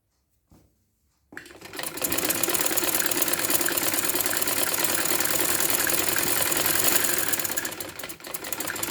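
A sewing machine stitching a kameez hem runs in one long steady burst of rapid whirring after a brief click and pause, close and even, ending with a slight slowdown.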